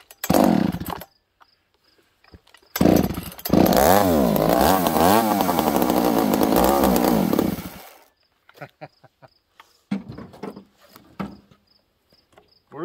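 A ported Husqvarna-style 266 chainsaw with a 272 top end fires and runs loud and close for several seconds on a hot day, its buzzing rev wavering up and down before cutting out, followed by quieter clicks and handling noises.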